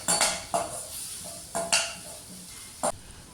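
A utensil stirs capsicum pieces and green chilli in a cooking pan for rice flake pulav, giving a handful of sharp metallic clanks and scrapes at uneven intervals over faint background noise.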